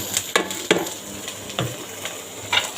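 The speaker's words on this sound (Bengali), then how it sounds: "এখন সবজিগুলো একটু হালকা ভেজে নেব" Chopped vegetables for a chicken and vegetable soup lightly frying in a pan, with a soft steady sizzle broken by several sharp stirring scrapes and clatters, close up, with no voices.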